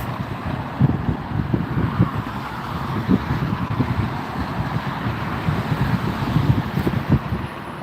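Strong wind at Las Vegas airport buffets the microphone in continuous low rumbling gusts, loud and close throughout, with no talking.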